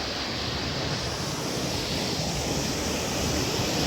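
Tat Waterfall pouring steadily in a lush natural setting, a dense continuous roar of rushing water that stays loud and even throughout, with no voices over it.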